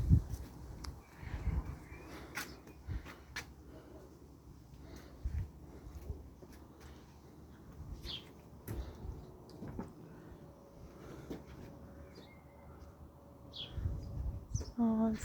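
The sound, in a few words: birds singing in a garden in the morning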